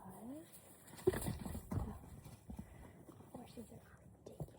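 A donkey shuffles and snorts nearby at a training session, faint hoof steps and breathy bursts under quiet conversation.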